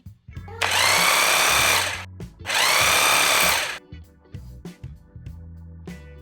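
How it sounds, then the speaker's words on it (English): A rotary hammer drill in hammer drilling mode runs in two loud, close bursts of harsh rattling chatter, each lasting over a second, followed by quieter clicks and handling noises. "This is hammer drilling."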